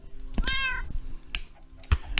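A cat meows once in Minecraft, a short, bright, falling cry standing out near the start, surrounded by soft clicking and tapping sounds with no one talking.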